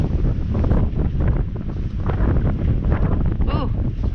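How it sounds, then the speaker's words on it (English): Strong wind buffets the microphone outdoors at an RV park, a loud, rough rumbling roar that surges and dips throughout, with faint traces of a voice in the gusts. "Ooh, wind."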